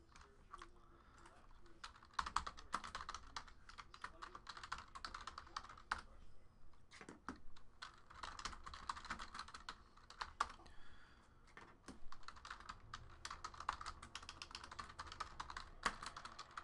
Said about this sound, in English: We'll type in all the hits, and then we'll see who gets what.